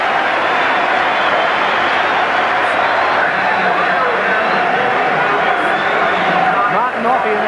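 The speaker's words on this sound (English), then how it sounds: "The crowd acknowledging Widnes as the World Club champions." Stadium crowd at a rugby league match cheers Widnes as World Club champions against Canberra, a loud sustained roar of massed voices with no break, wide and steady throughout.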